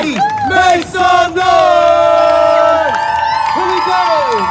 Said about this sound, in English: When we say make some noise, y'all make some noise.